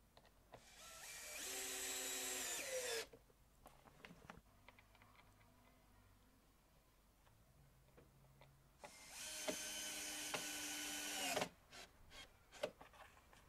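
Power driver sinking screws into the plastic sides of a Keter Store It Out Max 1200L storage shed during assembly: two sustained close bursts of whirring, a few seconds each, separated by quiet clicks and handling noises, ending with scattered knocks.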